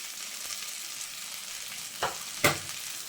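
Potato pieces fry in spice masala with a continuous moderate sizzle, broken by two sharp scraping clatters of a stirring spoon near the end.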